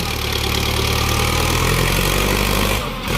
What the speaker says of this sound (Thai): ท่อนี่ก็เป็นท่อเดิมนะครับ ดังแน่นๆนะครับ